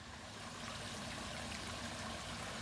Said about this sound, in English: the waterfall is on the other side of the pond